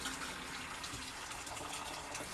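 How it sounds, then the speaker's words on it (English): Hot boiling water gushes into a saucepan to melt butter. The pour is a continuous, fairly loud rush of water that holds steady from start to finish. "I'm going to just put in some hot boiling water into the saucepan and get this butter melted."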